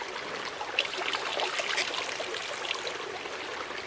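Water pushed back through a backpacking water filter with a syringe, a close, steady hissing trickle lasting several seconds with no talk.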